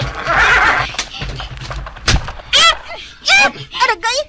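Horse neighing in several loud whinnies near the end, following thuds and clatter, with voices speaking alongside.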